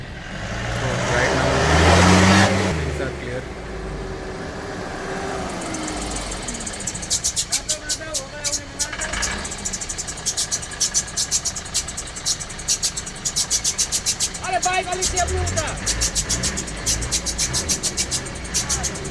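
A Tata Nexon reversing out of a traffic jam on the mountain road from Darjeeling to Siliguri gives a steady engine hum, joined later by rapid regular ticking, with surrounding traffic and nearby voices.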